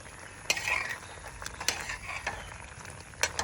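Kurukku Kalan, a thick Sadya-style yogurt curry, is stirred in a pot, giving soft close spoon clinks and scrapes in a loose rhythm over a faint bubbling simmer, with no voices.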